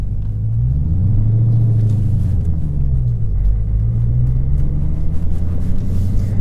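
A 707hp Dodge Challenger Hellcat V8 muscle car pulls away: a loud, deep engine rumble that swells and settles as it rolls off, steady and close with no talk.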